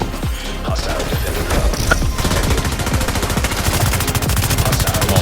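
Dense, continuous rapid gunfire from weapons in The Division 2 video game, loud bursts of automatic fire layered with impacts and crashes throughout, with no talk over it.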